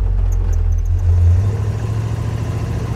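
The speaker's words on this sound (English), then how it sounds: "So the V8 in this thing still just has plenty of torque pulling away." An International Harvester Scout truck's V8 engine pulls away from low speed with a deep, steady rumble that swells briefly and then settles, loud and close, with no talking.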